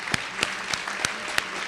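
An audience at a Women's History Month celebration at Brooklyn Borough Hall claps for honorees. The applause is a soft, steady patter with a few sharp, louder individual claps standing out at regular intervals.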